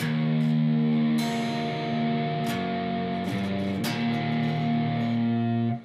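Electric guitar plays a riff slowly, a few strummed chord hits with sharp pick attacks ringing into each other, lightly overdriven and close, with no talking.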